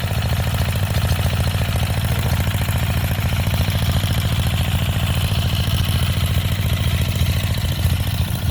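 A Chinese diesel plate compactor engine runs steadily with a loud, rapid pounding clatter and a low throbbing rumble, unchanging throughout with no talk.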